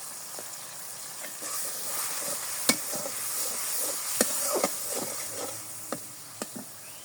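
Chili, turmeric and other ground spices being stir-fried in a pan, a soft steady hiss of frying broken by sharp clicks and scrapes of a spatula against the pan.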